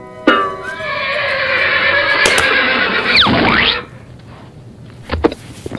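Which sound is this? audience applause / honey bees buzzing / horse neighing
horse neighing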